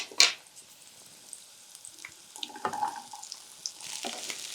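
Chopped okra tipped into a pan of hot oil while making rasam, a sharp clatter of pieces landing followed by soft, uneven sizzling and a few light stirring scrapes, close and fairly quiet with no talk.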